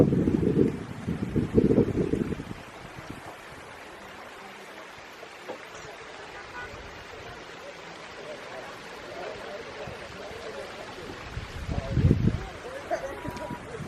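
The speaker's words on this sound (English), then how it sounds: "I just had a gust of wind come" Gusting wind in the open near Grand Teton and Yellowstone National Parks, a steady rushing buffet on the microphone with stronger bursts at the start and again near the end, while a person speaks over it.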